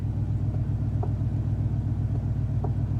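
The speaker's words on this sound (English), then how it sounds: "Boy, that exhaust sounds good." A supercharged Hummer H2 truck idles with a deep, steady engine rumble, loud and continuous, with a couple of faint clicks over the low throbbing exhaust.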